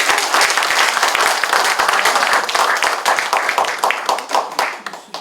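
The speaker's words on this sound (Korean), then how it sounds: "강연해 주신 이영환 박사님께 다시 한번 박수 부탁드리겠습니다" A large audience at a Pyeongtaek future-development forum anniversary event claps after a special lecture, steady dense applause filling the whole stretch and thinning slightly toward the end.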